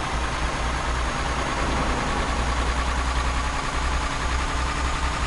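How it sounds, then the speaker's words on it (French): A heavy truck engine idles steadily in Euro Truck Simulator 2 with a deep, continuous rumble, loud and close, with no voices. "en plus ça fait trop de bruit le moteur"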